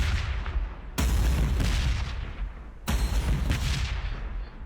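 Basilisk artillery fires a barrage in Warhammer Battlesector, with two heavy booming volleys about two seconds apart, each followed by a long rumbling decay, loud and close with no talk.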